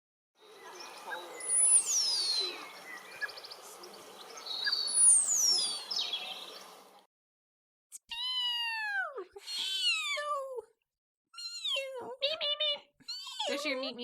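A recorded bird call, from a sandpiper, plays as a series of high chirps and sharp whistled notes in short bursts with gaps between them, clear and fairly loud, following an earlier stretch of thinner calls over a low background hum.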